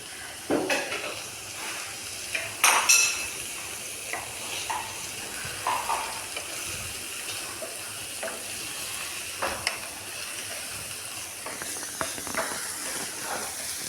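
Sliced onions sizzle and fry in a pan for appam batter, a steady hiss punctuated by scraping stirs and occasional clinks of a utensil against the metal.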